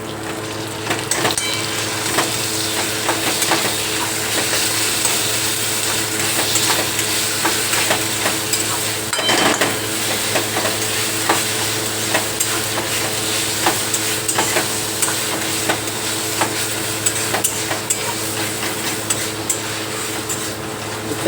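Onion frying with masala in a pan, stirred continuously for a steady sizzle and scrape that stays close and loud, with no voices heard, while a chicken curry is being cooked at home.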